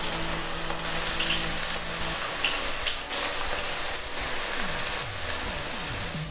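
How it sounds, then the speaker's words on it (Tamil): Okra (lady's finger) fries in hot oil with a loud, steady, rain-like sizzle and crackle, close and unbroken, while faint tonal background sounds sit low underneath and no one speaks. "மீதி இருக்க வெண்டிக்காயும் ஃப்ரை பண்ணிக்கலாம்."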